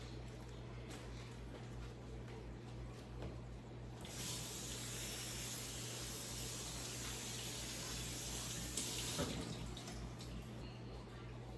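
Water from a kitchen tap rushes as produce is rinsed, a steady hiss that grows louder midway, with faint splashes and soft muffled voices in the background.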